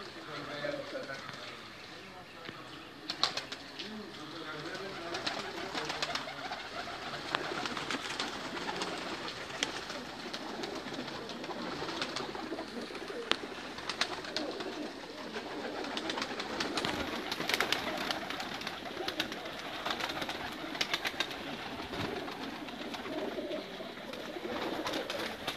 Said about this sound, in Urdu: بہت پیارے کبوتر ہیں